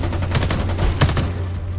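Rapid gunfire in the shooter video game Homefront: The Revolution, a dense stream of overlapping shots and bursts over a steady low hum, loud and continuous with no talking.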